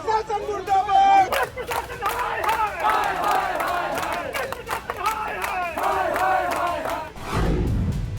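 ABVP students protesting on a march from a police post to the district magistrate's residence, a large crowd loudly chanting slogans in rhythmic unison with shouted voices overlapping, close and energetic, ending in a low rumble.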